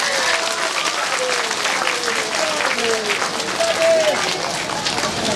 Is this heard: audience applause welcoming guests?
yes